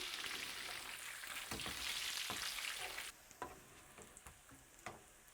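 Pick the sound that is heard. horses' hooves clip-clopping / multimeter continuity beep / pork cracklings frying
pork cracklings frying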